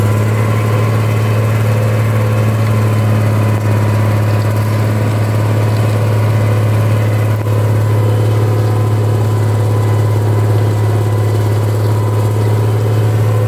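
A large 4x4 tractor pulls a disc harrow through a field, its engine a loud, steady, deep drone with a strong low hum and constant mechanical rattle, unbroken throughout.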